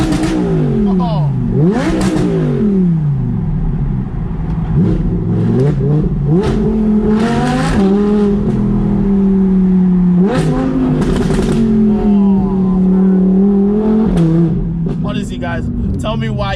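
Audi R8 V10 Plus engine revved hard in neutral, a loud nearby V10 rising and falling through repeated sharp revs and crackles, the pitch climbing and dropping between blips with a brief voice over it.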